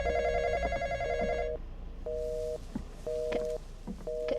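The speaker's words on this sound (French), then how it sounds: "Téléphone." Telephone in the horror game The Intruder, ringing in repeated bursts: a long electronic ring, then three shorter rings separated by brief pauses, clear and fairly loud with faint background noise.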